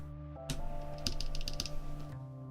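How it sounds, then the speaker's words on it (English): Rapid clacky keystrokes on a loud Neo Ergo mechanical keyboard with stabilizers, a burst of close, bright typing that starts abruptly and stops after about a second and a half, over a faint steady hum. "this is going to be a nice loud keyboard."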